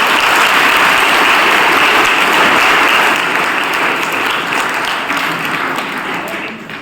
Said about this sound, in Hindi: इनके लिए ताली बजाते रहो जो जो बच्चे आते हैं।